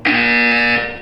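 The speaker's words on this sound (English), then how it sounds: "When you hear the buzzer, look down at the floor." A Portal 2 test chamber buzzer sounds once, a loud, steady electronic tone holding for nearly a second before tapering off, alone without talk.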